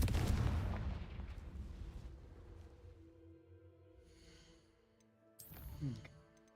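A Confringo blasting spell explodes in Hogwarts Legacy, opening with a deep rumbling boom that fades over several seconds, followed by a later smaller blast, under game music and faint voices.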